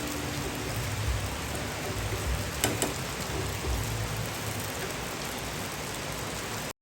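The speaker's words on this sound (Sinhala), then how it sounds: "ඊට ටික වෙලාවකට පස්සේ මෙන්න මේ විදියට වැස්ස හොඳටම වැඩි කරා" Heavy rain pours down in a dense, even roar of falling water that stays steady throughout, with no voices over it.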